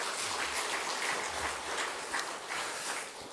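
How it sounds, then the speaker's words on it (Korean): A church congregation claps in welcome during a Sunday service, a soft, continuous wash of many hands heard from a distance, with a low rumble underneath and no clear voices. "박수로 환영해 주시기 바랍니다."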